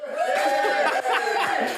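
Studio audience on a Saturday morning cookery show clapping and cheering with some laughter mixed in, a loud, busy crowd sound that holds steady across the moment with a brief dip midway.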